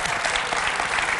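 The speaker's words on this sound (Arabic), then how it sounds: "صفقوا عليه أكثر" Studio audience clapping steadily on an Arabic-language television game show, a dense, continuous burst of applause filling the whole moment with no talk over it.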